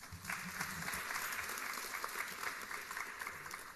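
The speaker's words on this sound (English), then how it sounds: "Can we have a huge round of applause," An educational awards ceremony audience gives a round of applause, heard as an even, continuous wash of many hands clapping at a fairly low, distant level throughout, with no speech.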